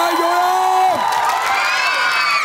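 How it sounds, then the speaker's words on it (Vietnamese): A studio crowd at a Vietnamese children's TV game show cheers and whoops for the blue and orange teams. The sound is loud and close, with a voice over it at the start before the cheering carries on alone. "một tràng vỗ tay dành cho đội xanh và đội cam ạ"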